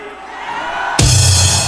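A large crowd at a political rally breaks into a sudden, loud roar of cheering that swells all at once and keeps going.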